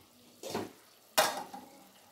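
Chicken gongura biryani being stirred in a pot: two short, close scraping swishes about a second apart, with a soft sizzle in between.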